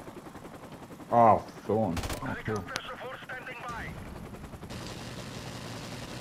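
M16 rifle gunfire in a first-person shooter game: one loud, sharp hip-fired burst early on, followed by a few softer shots and game noise. A player talks over it.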